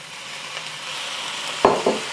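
Chicken fried rice stirred in a hot pan with soy sauce, a soft steady sizzle running throughout, broken near the end by two sharp scraping strokes of the spatula.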